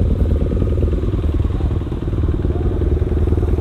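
A Suzuki DRZ 400 supermoto idling nearby at night, a loud steady single-cylinder thump with a rapid even pulse and no speech.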